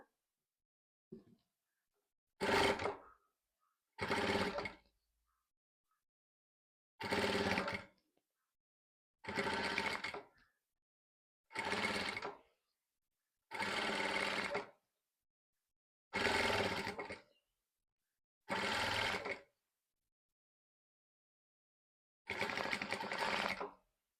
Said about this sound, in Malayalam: സിബിൻ്റെ ഈ സൈഡും അതേപോലെ തന്നെ സിംഗിൾ ഫൂട്ടർ ഉപയോഗിച്ച് സ്റ്റിച്ച് ചെയ്തെടുക്കുക.